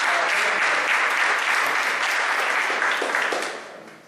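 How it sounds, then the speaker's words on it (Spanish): Applause from a workshop audience, a dense, steady wash of many hands clapping at close range that holds strong for about three seconds before tapering off. "entonces un aplauso para ustedes"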